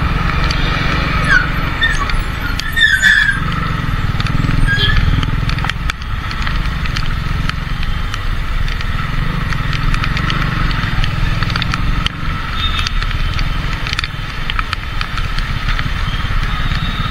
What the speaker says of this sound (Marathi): आता इथे ट्रॅफिक लागली परत.